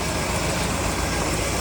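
A 1974 Chevy C30 truck engine idling with an overheating problem, a steady broadband rumble and hiss that holds evenly throughout with no talk.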